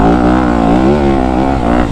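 Motocross motorcycle engine roaring steadily on a sand track during a first sighting lap, loud and close with continuous revving and shifting pitch throughout.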